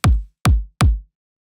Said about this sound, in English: Layered that up with a kick drum.